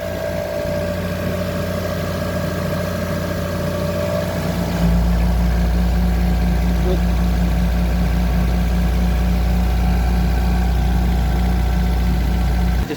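Mitsubishi Lancer 2015 engine after a top overhaul with a new timing belt, idling steadily and close with a constant low hum and faint whine, no talk.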